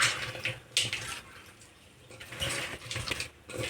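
Salted, turmeric-coated bitter gourd pieces are squeezed and rinsed in water, making soft sloshing and splashing bursts in uneven pulses, quiet and close, without talk.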